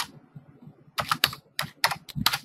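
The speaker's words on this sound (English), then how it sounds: "You want to mute yourself while you're typing, dude?" Quick bursts of keystrokes on a computer keyboard, close and clear, clustered into irregular clicking runs with short pauses between them.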